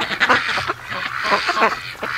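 Several breeding ducks quack in short, lively bursts while plowing through deep snow in a cold garden, the calls close and overlapping against a quiet backdrop.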